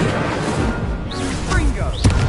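Incendio fire spell cast in a wizard video game, a dense crackling, whooshing magical burst with a few sharp thumps near the end, loud and continuous.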